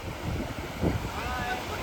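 Strong wind buffets the microphone at a Goa beach with high seawater, a steady broadband roar of wind and surf with a brief louder gust midway.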